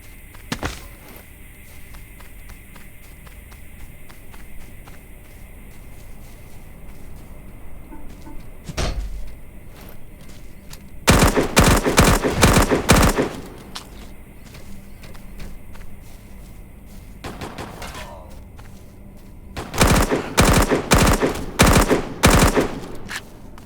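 Gunfire from a hidden sniper in the Dysterra video game crackles in two loud bursts of rapid shots, separated by quieter stretches with scattered clicks and thuds.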